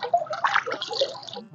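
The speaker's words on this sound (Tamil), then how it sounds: "இப்போ கொஞ்சம் கூட தண்ணி ஊற்றிக்கோங்க." Water is poured into a camphor solution being mixed, giving a brief, close splashing and trickling sound that stays fairly steady for a moment with no talking.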